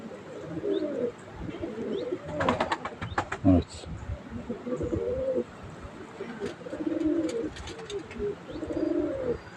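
Pigeons, one of them sick, coo repeatedly in low, rolling phrases at close range, with a brief burst of chirps and rustling partway through.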